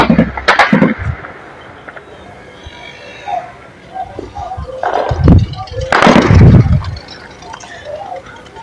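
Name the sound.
gunfire in a news video clip of clashes in southern Syria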